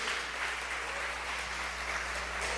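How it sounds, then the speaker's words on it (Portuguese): Steady, dense clapping from a church congregation during a Bible study on the Great Tribulation, heard as an even wash of applause at moderate level. "Levante as suas mãos e aplauda bem forte"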